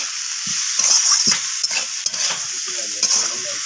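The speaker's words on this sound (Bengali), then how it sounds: "তো সমস্ত কিছু মশলা এইভাবে নাড়াচাড়া করে" Spices and ginger paste are stirred and fried in a pan for vegetarian khichuri, with steady sizzling and irregular scraping strokes of a spoon close by.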